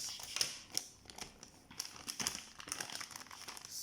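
Crinkly plastic wrapper of a Toffee Crisp bites candy bag being cut open, a run of close, soft crackling and snipping rustles with brief sharper ticks.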